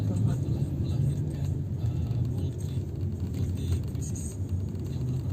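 A continuous low engine rumble and road noise from inside a vehicle moving fast, up to 150 km/h, steady throughout with no clear breaks.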